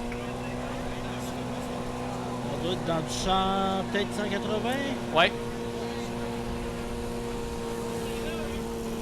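A pulling tractor roars through a French tractor-pulling run, its engine droning steadily and swelling into louder revving bursts midway, while commentators talk over it.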